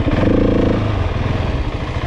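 Running engine of a Kawasaki KMX motorcycle, a steady loud mid-pitched drone with a harmonic tone in the first part, continuous and close throughout.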